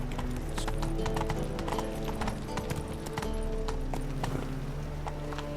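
Hooves of the horse Roach clip-clopping at a steady trot in The Witcher 3 video game, with a brief whinny, rhythmic and close over game ambience.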